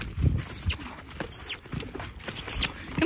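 A horse canters under saddle, moving with the saddle on for the first time. Its hooves beat on the ground in an uneven, rhythmic clip-clop at close range.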